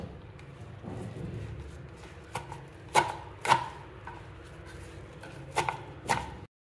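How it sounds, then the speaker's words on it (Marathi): Knife chopping fresh fenugreek (methi) leaves on a board in a home kitchen, a handful of sharp, separate thuds spaced unevenly over a soft background hum. "मी आधी मेथीची भाजी चिरून घेणार आहे"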